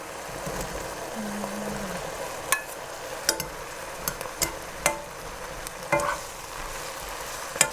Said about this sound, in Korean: 저 고추하고 당근을 넣고 볶으면 돼요